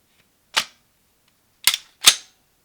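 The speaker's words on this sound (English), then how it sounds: "So you just slide it on there." A dirty Glock 35 pistol slide is slid back onto its frame, giving three sharp, close metallic clicks: one alone, then a quick pair about half a second apart.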